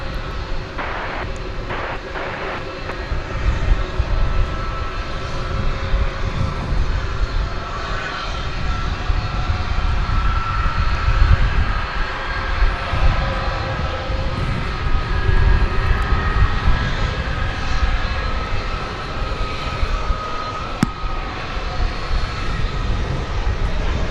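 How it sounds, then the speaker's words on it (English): An American Airlines Boeing 737-800 jet arriving at DFW Airport roars steadily, a loud, sustained broadband engine rumble that holds for the whole stretch without talk. "American Airlines plane arriving from Puerto Vallarta in Mexico. Looks like flight 1093, a 737-800."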